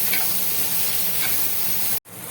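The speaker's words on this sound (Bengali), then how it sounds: "আমি আরও ভেজে নেব" Steady sizzle of hog plums frying with turmeric in a pan, a continuous hiss with faint stirring, cut off abruptly near the end.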